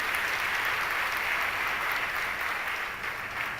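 Continuous applause from a congregation at a healing Mass, a dense even roar of many hands clapping that holds steady, dipping a little toward the end.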